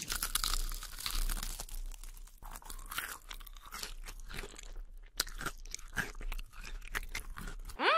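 Close, loud crunching and chewing of crispy fried food, irregular crackly bites and mastication continuing for several seconds with brief quiet gaps.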